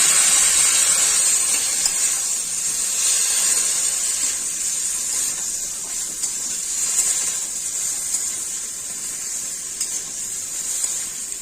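Steady loud sizzle and hiss of water poured into hot spice paste in a pan while cooking a tangy potato, eggplant, tomato and drumstick curry, continuous throughout with no talk.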